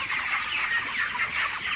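A dense chorus of many broiler chickens clucking continuously, a busy flock close by with no talking.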